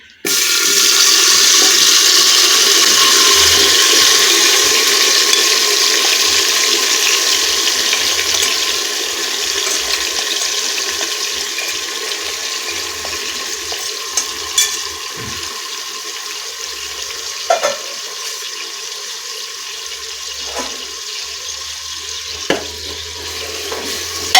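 Marinated vegetables for veg biryani hit hot oil with cloves and set off a loud, close hiss that eases into a steady sizzle, punctuated by occasional spoon clicks against the pot.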